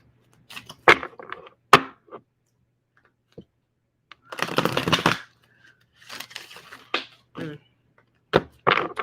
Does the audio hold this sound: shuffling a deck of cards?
yes